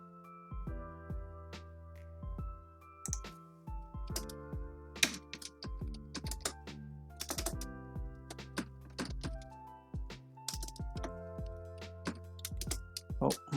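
Rapid, uneven clicking of computer keyboard keys, in quiet bursts with short pauses, close and alone.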